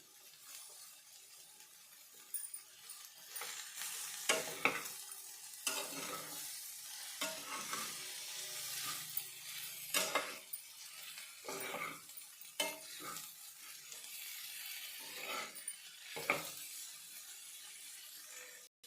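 A spatula scrapes and stirs chopped chapati, fried egg, salt and coriander around a pan, producing irregular rasping strokes and clatters over a quiet, soft sizzle.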